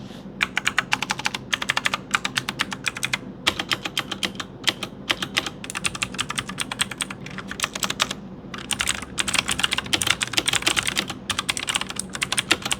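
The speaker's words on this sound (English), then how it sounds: "I enjoy typing on this keyboard as well as gaming on this keyboard." Rapid, steady typing on a Dawg Highkey 685 pre-lubed mechanical keyboard, with dense clusters of crisp, close keystroke clacks and brief pauses between bursts, heard alone without talk.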